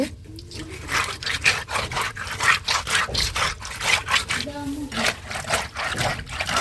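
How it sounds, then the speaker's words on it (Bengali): Taki fish are rubbed and scrubbed clean at an outdoor water tap, with quick, rhythmic rasping strokes repeating close by while a voice talks throughout. "খালা কলতলায় গিয়ে মাছগুলো খুব ভালোভাবে ঘষে মেঝে পরিষ্কার করে নিচ্ছে"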